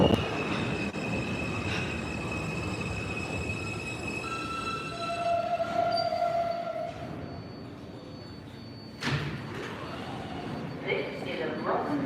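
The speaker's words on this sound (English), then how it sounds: "This is a Brooklyn bound R local train." A Brooklyn-bound R local on the New York subway runs with a steady rumbling roar and metallic whine, brake and wheel tones rising mid-clip and a sharp clank near the end; a voice talks over it.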